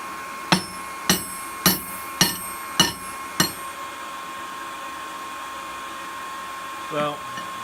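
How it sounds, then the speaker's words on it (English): A coal forge's blower fan runs on high with a steady whooshing hum, and six sharp, ringing hammer blows land over it at an even pace before fading out, followed by a brief voice near the end. "We've got the fan on high, and we should be very soon at forging temperature."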